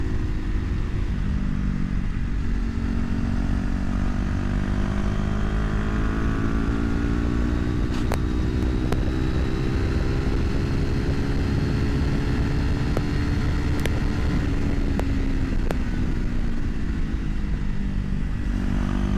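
Sportbike engine droning steadily through a mountain canyon, heard from the rider's position, with a low sustained tone that rises and falls gently as the throttle changes. Wind noise runs underneath and no one speaks.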